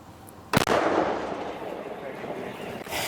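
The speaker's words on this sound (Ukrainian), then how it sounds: "Вистріливши чотири снаряди, САУ переїжджає до іншої позиції." A single loud, sharp blast from a self-propelled artillery gun close by, followed by a long roaring echo that slowly fades, then another burst begins at the end.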